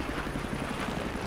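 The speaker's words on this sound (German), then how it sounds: "Helikopter!" Helicopter in the video game Battlefield 3, a dense, steady rotor-and-engine roar with a rhythmic low chop, loud and close, filling the brief moment without speech.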